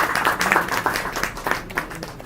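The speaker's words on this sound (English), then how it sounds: "So let us give a clap for all the awardees." An audience at a national ICT award ceremony claps for laptop awardees, a brief, scattered patter of hand claps at moderate volume.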